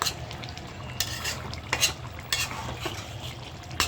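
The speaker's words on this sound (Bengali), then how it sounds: "এই যে আমার মাছের ঝোল রান্না শেষ, এখন নামাই নেব" Fish curry is stirred in a pan, a close, continuous scraping and swishing with soft sizzling underneath and a few sharper scrapes of the utensil against the metal.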